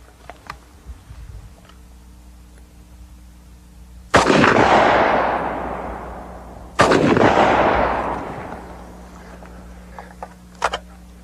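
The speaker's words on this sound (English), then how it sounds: "Now, we're going to shoot right at the gas tank so we know we hit it." Two loud rifle shots of standard .308 ball ammunition fired at a car's gas tank outdoors, spaced a few seconds apart, each with a long rolling echo that fades slowly.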